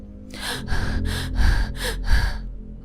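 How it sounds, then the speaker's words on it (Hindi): A frightened boy pants heavily: six loud, breathy gasps in a steady rhythm, each a rough rush of air, close and alone with no words. "डर की वजह से कुछ बोल नहीं पा रहा है और अभी तक हाँफ रहा है"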